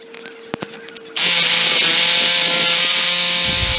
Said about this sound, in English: I've just got the saber saw in here, cut a slot